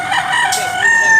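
A black Milsim gamecock rooster crows once, loud and close, a drawn-out high call over a bit of background noise.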